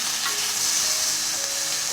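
Chili oil, salted shrimp and radish stir-fried together in a pot for a spicy seafood stew, an even, close frying sizzle with faint stirring, steady for two seconds.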